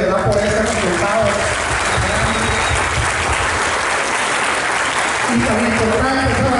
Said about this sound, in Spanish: Quiero darles un aplauso a todos ustedes